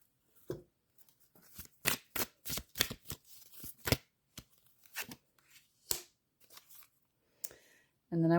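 Oracle cards are shuffled by hand in short crisp bursts of riffling and slapping, irregular and close, with brief pauses between and a voice starting at the end.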